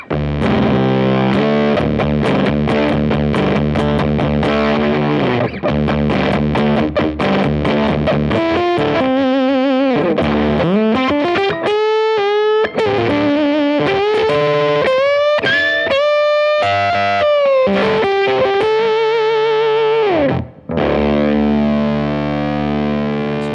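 Electric guitar driven through a JDM Pedals Fuzz 292 custom silicon fuzz pedal, thick and chunky, strummed chords giving way to sustained, bending lead notes with a brief break near the end, loud and unaccompanied.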